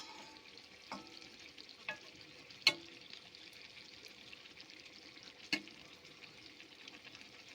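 Potatoes, pricked with a fork and salted, fry in a pan for hilsa biryani, giving a steady soft sizzle with a few sharp stirring clinks and scrapes against the pan, heard alone.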